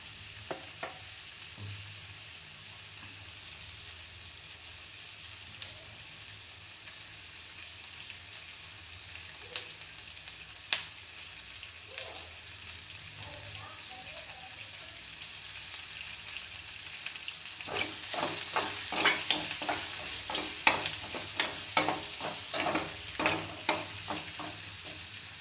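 Brinjal pieces sizzle and fry in a pan for a curry, soft and steady at first, then louder with sharp clattering scrapes and stirs toward the end.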